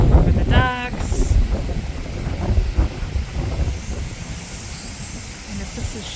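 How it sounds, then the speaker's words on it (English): Gusty wind blows outdoors by a flooded canal and seawall as Hurricane Helene approaches, rushing and buffeting the microphone in a steady roar, with a short voice at the start. "it's windy out"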